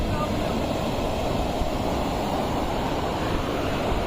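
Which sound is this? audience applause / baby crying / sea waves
sea waves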